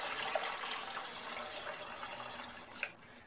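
About a liter of water poured into a pot of dried spices for South Indian style chicken soup, a steady close splashing pour that tapers off near the end.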